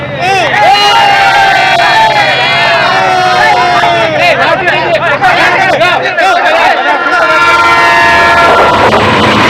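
A train at a station: loud, sustained horn-like tones and rolling rail noise, with crowd chatter and voices mixed throughout.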